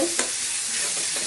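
Spices sizzling in a pan as they are stirred for paneer tadka, a steady frying hiss with a quick scrape of the spoon near the start.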